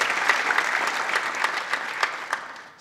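Applause from the audience at a political campaign rally in Pimpalgaon, steady clapping from a crowd with a few sharper claps standing out, close and continuous.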